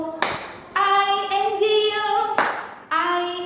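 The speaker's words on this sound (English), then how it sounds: "you are not going to sing, but you are going to clap" Children clap their hands in time to the Bingo song, a few sharp broadband claps landing between sustained sung notes, with the clapping replacing spelled-out letters in a classroom rhyme.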